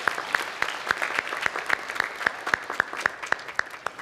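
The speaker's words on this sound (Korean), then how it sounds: "우리 박수로 환영하도록 하겠습니다" Church congregation clapping to welcome visiting elders during a Sunday worship service: a steady, rhythmic round of hand claps, fairly close and clear over a light room murmur.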